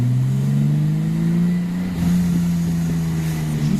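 A BMW E30 325i's engine with 171 hp drones loudly and steadily, its pitch rising gradually through a sustained rev with some wind noise, no one speaking over it.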